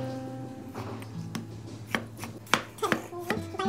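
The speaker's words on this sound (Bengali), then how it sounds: "টমেটোটাকে ফালি করে নিব" A knife slicing a tomato during fish curry preparation: a series of irregular, close knife strikes and taps against a cutting surface, growing denser toward the end, over a low background hum.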